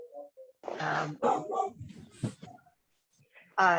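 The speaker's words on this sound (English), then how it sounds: "There's a dog present." A dog at a community self-defense panel gives short yips, whimpers and a couple of barks, moderately distant in a room, mixed with brief murmurs of people.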